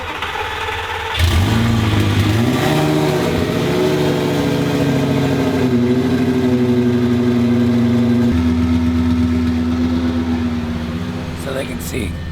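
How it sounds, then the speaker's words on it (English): A cold Lamborghini Gallardo engine fires up with a loud burst, then revs and settles into a rumbling idle, with a brief voice near the end. "fire it up and then we'll do it"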